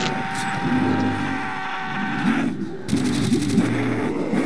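Rapid gunfire from the Call of Duty: World at War video game, firing-range solo play: dense bursts of automatic shots, loud and continuous, with a brief lull before the shooting resumes.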